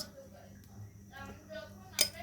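A spoon clinks once, sharp and bright, against a pan while a spoonful of ghee is added, after a moment of soft kitchen noise.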